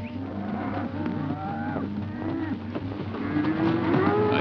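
Cattle at a cattle market moo repeatedly, several low drawn-out calls overlapping against a busy background, the loudest one toward the end.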